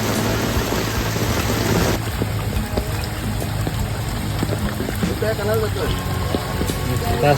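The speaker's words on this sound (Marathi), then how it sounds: "पहिल्यांदा आवरा जोरान पाऊस आलाय" Heavy rain pours down steadily and loudly, a dense continuous hiss of drops with occasional brief knocks and clatters.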